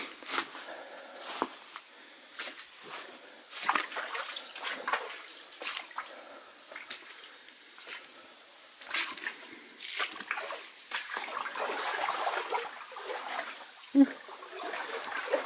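Creek water runs near a waterfall on rural acreage, with uneven splashing, sloshing and trickling up close that rises and falls throughout.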